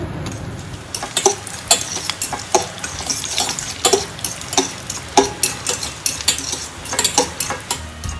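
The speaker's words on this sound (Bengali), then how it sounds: "এই পাশের চুলাটায় তেল গরম দিছে শুকনো মরিচগুলো আগে ভাজবো" Dried red chillies frying in hot oil in a pan for a lentil mash, with sharp metallic clinks and scrapes of a utensil against the pan over a soft, steady sizzle, rhythmic and close.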